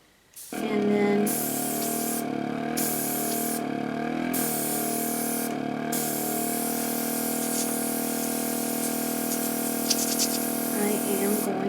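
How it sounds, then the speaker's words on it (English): An airbrush run on high sprays paint over a heart stencil for cardmaking, a loud, close, continuous hiss starting abruptly with a steady compressor drone underneath and short breaks in the spray. "I am going to airbrush"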